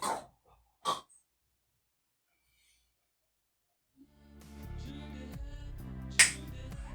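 Two crisp finger snaps ring out close and alone near the start. Silence follows, then music with a soft voice comes in, topped by one more sharp snap-like hit.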